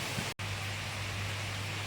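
Heavy rain pours down steadily outdoors during house-moving work, a dense, even hiss filling the whole moment, broken by one abrupt instant of silence near the start, with a low steady hum underneath and no voices.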